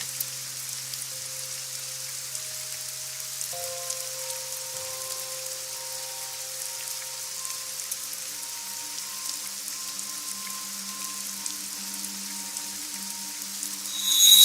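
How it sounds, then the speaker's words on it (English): Rain in the video game AI: The Somnium Files makes a steady, soft hiss that runs throughout alongside sustained musical tones, swelling slightly louder at the very end. "It's raining."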